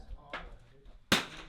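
Rifle shots on a shooting range during an NRL22 match, two quick sharp cracks, the second louder and closer, with faint background activity between them.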